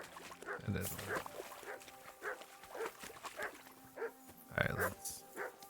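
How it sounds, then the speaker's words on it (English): A dog in Kingdom Come: Deliverance II barks repeatedly in short, irregular bursts at moderate distance, with a few yips mixed in. A person speaks briefly over the barking. "Get that mutt of yours to stop barking"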